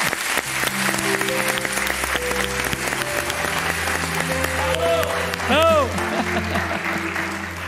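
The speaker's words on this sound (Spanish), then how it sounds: "Un aplauso para ellas, que vuelven al redil." Studio audience applause on a Spanish afternoon television talk show, a steady dense clatter of clapping under music and voices, with a brief swelling tone near the end.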